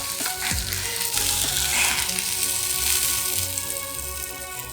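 Chicken breast sizzles and fries steadily on a George Foreman grill, a dense, continuous crackle and hiss up close with faint scraping, no talk.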